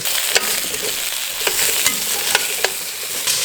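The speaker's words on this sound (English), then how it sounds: "I'm gonna put in all the other vegetables. Potatoes, carrot." Steady frying sizzle with a few sharp clatters as potatoes and carrots are stirred and tossed in a hot pot for duck stew, continuous and close, no talking.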